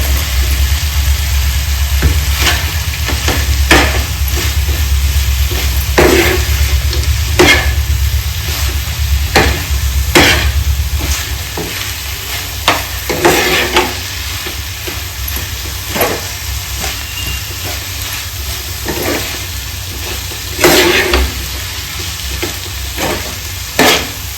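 Fried soya chunks are stirred into chilli sauce in a pan, giving a loud, steady sizzle broken by repeated scraping strokes of the spoon at an uneven rhythm. A low engine-like hum sits underneath during the first half.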